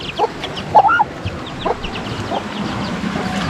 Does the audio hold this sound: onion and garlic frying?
no